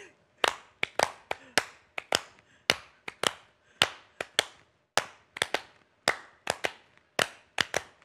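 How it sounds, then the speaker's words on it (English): Sharp hand claps beat out a quick tigita drum rhythm, in repeated close groups of crisp strikes with short pauses between phrases. "I don't know if my hands can clap the rhythm of the tigita."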